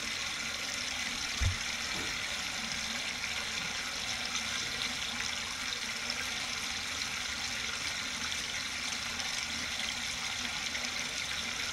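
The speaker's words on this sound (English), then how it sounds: "So the water's flowing on both the top and the bottom." Clear water pours steadily over a small dam in Florida, a constant, loud, even rush of flowing water with no pauses and no voices.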